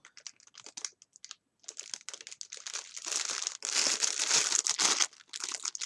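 Plastic packaging of a red tulle Christmas wreath kit being handled, giving bursts of close crinkling and crackling, stop-start at first and then more continuous and louder toward the end, with no talking.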